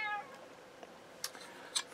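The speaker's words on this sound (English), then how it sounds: "forgive my noisy cat." A house cat meows in short, sharp cries: a drawn-out call at the start, then two brief, close meows spaced apart, with quiet room noise between them.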